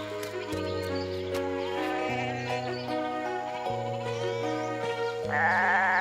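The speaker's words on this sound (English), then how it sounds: "But Peter's here with the goats" Goat-like bleating rises over a steady musical backdrop, with a louder, wavering bleat near the end.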